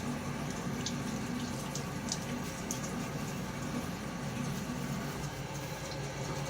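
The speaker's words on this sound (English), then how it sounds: "I'm going to take now and add some water to my face." Water splashing onto a face during a wet shave with Gillette razor and shaving cream, a steady close running-water wash with soft splashes, constant level throughout.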